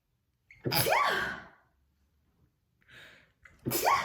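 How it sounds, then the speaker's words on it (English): A loud, close sneeze bursts out after a sharp intake of breath, followed by a quiet pause, a soft breath, and the start of a second sneeze. "I'm going to sneeze."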